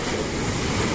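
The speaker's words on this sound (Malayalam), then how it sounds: "കടല് നല്ല കൂടുതലാണ്." Rough sea surf pounds the shore in a dense, roaring wash of breaking waves, loud and close, with gusty wind noise and no voices.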